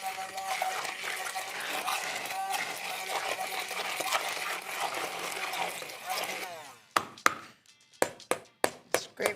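Refried beans being blended smooth in a mixer, a steady whirring churn that runs for several seconds, then stops and gives way to a few sharp knocks and taps close by.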